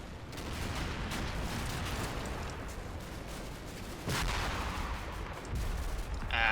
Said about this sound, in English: It's Mark 19 fire.